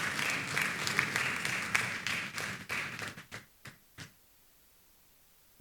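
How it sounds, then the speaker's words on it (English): An audience claps to welcome a speaker at a workshop, dense applause that thins out into a few scattered, separate claps before fading to silence. "Please keep clapping until she gets here."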